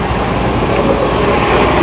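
Train noise at Bramalea GO train station, a steady loud broadband rumble with low-frequency churning throughout, close by and continuous without pauses or voices.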